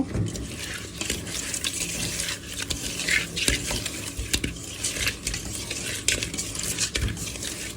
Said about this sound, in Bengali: দিয়ে দিলাম হলুদ মরিচ লবণ মাছটা মাখিয়ে নিব